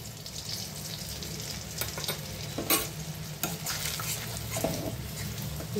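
Steady oil sizzle of food frying, with a few sharp pops and clinks of a utensil stirring in the pan.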